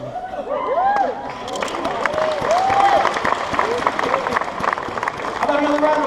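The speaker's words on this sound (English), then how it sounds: "How about another round of applause?" A crowd at a Disney park night event claps and cheers, a rising wash of applause mixed with whoops and excited voices, while people talk nearby.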